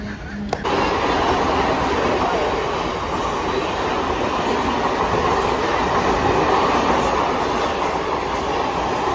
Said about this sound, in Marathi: चला आता बघूया कुठली दुसरी ट्रेन येते